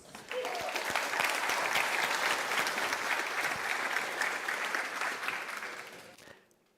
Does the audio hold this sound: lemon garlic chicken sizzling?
no